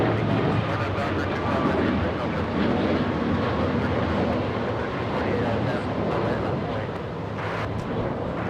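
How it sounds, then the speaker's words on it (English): An Alaska Airlines jet taking off at LAX, a steady loud roaring engine rumble with wind noise throughout, heard alongside radio chatter and talking. "I think we'll go for the Alaska takeoff, yes."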